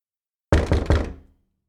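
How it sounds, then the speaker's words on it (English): Three loud, heavy knocks on a flimsy wooden door in the video game Samurai of Hyuga, evenly spaced and close, with no voices. "3 loud knocks threatened to break the flimsy entrance to Ume's humble abode"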